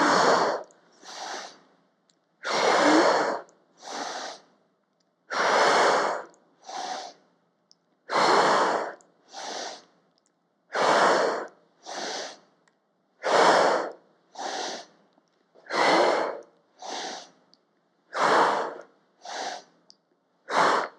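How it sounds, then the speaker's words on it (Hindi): Deep, loud breaths drawn in and pushed out during a yoga exercise, about a dozen strong airy cycles in a steady rhythm. Each inhale is paired with a shorter exhale, close and alone. "इस तरीके से सांस भरना है पीछे जाके"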